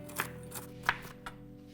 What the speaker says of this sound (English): We just want a rough chop on the walnuts